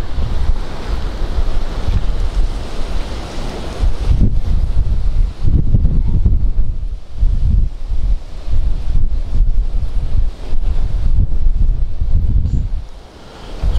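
Strong gale roaring across the open ground at Instow Station, a steady, heavy rush of wind buffeting the microphone with gusty swells and low rumbling throughout, no one speaking.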